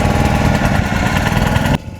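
A motor boat engine chugs loudly and close up as the boat pulls away at a sea beach on a rising tide, its throbbing drone running nonstop before dropping off near the end.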